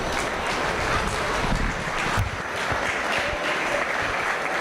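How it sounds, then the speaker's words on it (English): Audience applause for the exhibitors at a 2025 meat goat show, a steady wash of many hands clapping at once, fairly loud and even throughout with no talk over it. "let's go ahead and give those exhibitors a nice round of applause"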